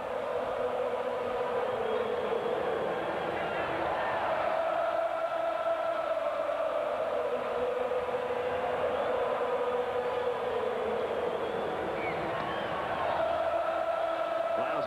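Baseball crowd at a Giants vs Braves game, a steady wide roar of cheering and murmur filling the ballpark, swelling slightly mid-clip and again near the end, with no talk on top.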